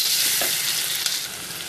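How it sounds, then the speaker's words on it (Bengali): Whole cardamom pods and garlic paste frying in hot oil in a pan for Bangladeshi beef bhuna, a steady close, bright sizzle that holds across the whole moment, with faint stirring scrapes and no talking. "পাঁচটা এলাচ দিয়ে আবার একটু এক মিনিটের মতো ভেজে নেব"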